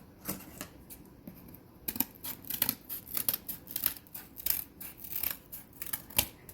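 Scissors snip through faux flower stems in a quick run of close, crisp cuts, irregular clicks and crunches repeating steadily with no talk.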